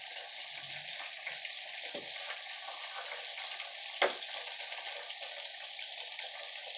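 Oat-coated chicken pieces fry gently in oil over a low flame, giving a steady close hiss of sizzling with one brief clack of a utensil partway through and no speech.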